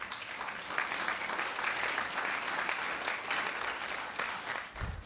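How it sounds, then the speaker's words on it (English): An audience in a county council chamber applauds at a State of the County address, a dense burst of clapping that holds steady for about five seconds before fading at the end. "Yes, clap for that, right?"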